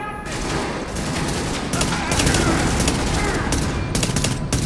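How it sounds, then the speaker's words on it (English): Heavy automatic gunfire in The Division at a power plant firefight, loud sustained bursts of rapid shots with short gaps between them, close and continuous. "This is annoying getting shot at."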